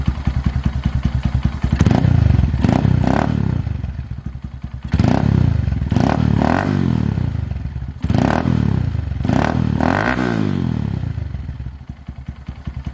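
A 2022 Honda Grom fitted with a Yoshimura RS-9T race exhaust revs hard in several loud, close bursts, each climbing sharply then dropping back to a lumpy idle, with rattly mechanical clatter between blips.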